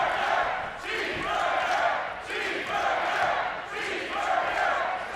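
A wrestling crowd at a live pro wrestling show chants and cheers for Cheeseburger, a loud rhythmic roar that surges in repeated waves across the arena, close and full throughout.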